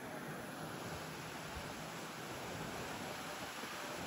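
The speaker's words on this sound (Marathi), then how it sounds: "बघा तुम्ही पाणी कसलं वेगात चालू आहे" A flooded river rushes fast beneath a bridge, a steady broadband roar of churning water that stays loud and unbroken throughout with no voices.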